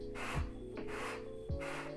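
Sandpaper rubbing back and forth over a plaster piece, a soft rasping scrape in repeated strokes, close but quiet, with no talking.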